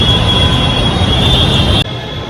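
A loud, steady metallic rumble with a high whine as a metro train runs along the rails at a Bengaluru metro station, cutting off abruptly into quieter station noise.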